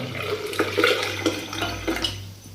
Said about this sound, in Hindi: सबसे पहले हम थोड़ा सा दूध डालेंगे इसके अंदर।